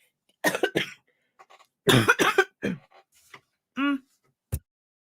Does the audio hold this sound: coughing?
yes